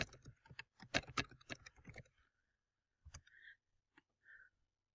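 Rapid clicking keystrokes on a computer keyboard while logging in, a dense burst of typing for about two seconds followed by a few isolated key taps and clicks in a quiet room.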